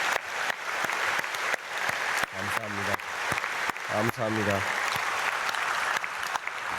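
A church congregation at a dawn prayer service applauds, with steady, moderately loud clapping from many hands throughout and a voice speaking briefly over it.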